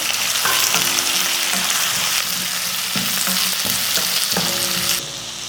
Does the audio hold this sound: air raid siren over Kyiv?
no